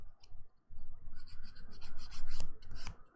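Nail file rasping against fingernails during a dip-powder manicure, a close, steady run of short scratchy back-and-forth strokes with a brief pause near the start.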